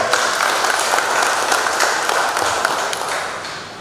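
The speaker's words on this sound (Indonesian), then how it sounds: "Mari kita berikan aplaus." Audience applause fills a ceremony for the handover of TMMD program results in Kediri regency, a steady dense clapping crowd that holds loud throughout and tapers slightly at the end.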